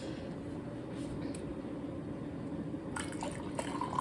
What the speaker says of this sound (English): Then we're gonna pour some hot water that I just boiled.